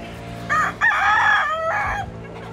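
A gamefowl rooster on a game farm crows once, loud and near, in a drawn-out call, with a short cluck at the start and low farmyard noise underneath.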